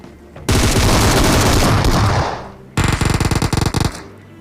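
Loud, close automatic gunfire in a PUBG Mobile fight, a long sustained burst followed by a brief pause and then a rapid rattling string of shots.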